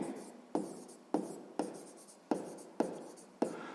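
A pen scratches across paper while writing out a sixth-grade math solution, in short strokes with sharp starts roughly every half second, close and fairly quiet, with no talk.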